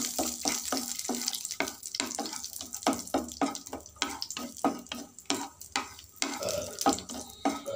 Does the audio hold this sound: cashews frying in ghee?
yes